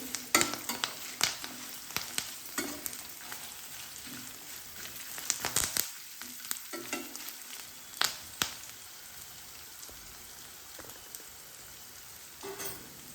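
Tempering for dal sizzles and crackles in a hot pan, a steady frying hiss with scattered sharp pops and spoon stirring clatter, close and fairly loud with no voices.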